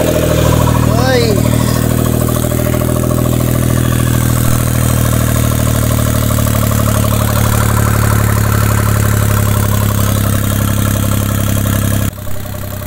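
A Suzuki Every Wagon engine with a brand-new turbo installed idles steadily and close up, a loud, even mid-low drone running for most of the stretch before cutting off near the end, with a brief whistle early on.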